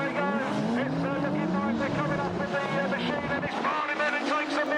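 Autograss racing cars drift around a UK dirt track, their engines roaring with rising and falling revs, loud and steady throughout, while a person talks over them.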